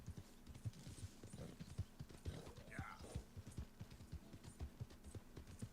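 Hooves of a liver chestnut Hungarian half-bred horse clip-clopping in a steady, even rhythm in a video game, close and moderately loud, with faint ambient game sound underneath.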